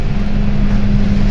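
The four-cylinder engine of an Enviro 200 MMC bus on an express run drones steadily and loudly from inside the bus, a constant low rumble with no other sounds.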